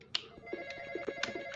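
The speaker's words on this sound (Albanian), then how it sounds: "Se po thot telefoni po të cikran." Telephone ringing inside a ghost-hunting video game, set in a basement, with repeated bright ring bursts over a steady electronic hum and low rumbling game noise.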